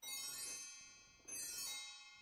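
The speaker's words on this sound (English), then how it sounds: "kind of do a little mini wind chime thing" A small mini wind chime jingles in two bright, shimmering strokes, each ringing out and slowly decaying, close and clear with no talking over it.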